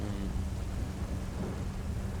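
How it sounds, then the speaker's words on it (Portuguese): Thunder from a lightning strike in GTA V rolls as a dense, steady low rumble mixed with rain hiss, loud and continuous without a sharp crack. "bateu o relâmpago, cai pra baixo"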